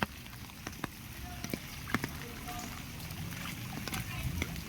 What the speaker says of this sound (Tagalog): grabe naman po ang baha dito sa Pasay